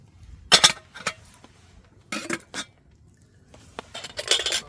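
A roomy budget camping cooking pot is handled, with a few sharp metallic clanks and clinks in short bursts separated by quiet pauses, close by and without speech.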